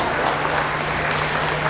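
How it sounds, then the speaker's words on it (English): Spectators at a county fair dairy steer show applaud the class placings with a loud, continuous patter of clapping and a faint steady hum underneath. "Let's give both those individuals a big round of applause."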